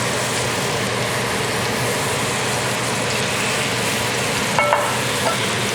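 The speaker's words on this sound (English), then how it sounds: "A small salmon fillet like this isn't gonna take too long to cook." A small salmon fillet sizzles steadily in a hot skillet, a continuous close frying hiss with a couple of brief clinks near the end, no talking.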